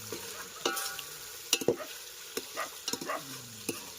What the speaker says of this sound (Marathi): हालून घ्यायचं व्यवस्थित